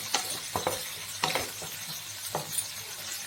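Fried rice with chilli sauce stirred in a pan: a soft sizzle with distinct clacks and scrapes of a spatula against the metal at irregular intervals, close and moderately loud.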